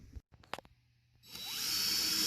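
A power drill drives the last few screws into outdoor decking: a couple of sharp knocks and short clicks come first, then the motor whines up into a rising, steady high-pitched spin close by.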